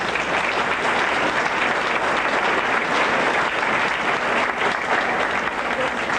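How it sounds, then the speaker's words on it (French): A congregation at a priest's retirement gathering claps warmly for a fellow parish priest, steady dense applause from many hands continuing evenly throughout at a close, full level. "je pense que ça mérite une bonne main d'applaudissement en appréciation"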